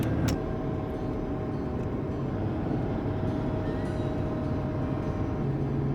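A Ram Cummins diesel truck with a 5-inch straight pipe labours up a steep 12% hill in third gear, its deep, steady exhaust roar fairly quiet and even throughout.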